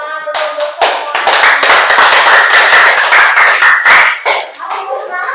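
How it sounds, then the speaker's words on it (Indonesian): Classroom group of students clapping together in loud, close, rapid applause that keeps going for several seconds before tapering off. "Tepuk tangan dulu untuk semua"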